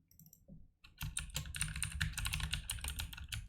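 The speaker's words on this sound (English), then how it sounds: "I'll type out my password here" Someone types a password on a computer keyboard, a dense run of close, crisp key clicks lasting a few seconds after a brief quiet start.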